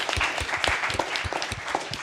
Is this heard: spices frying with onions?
no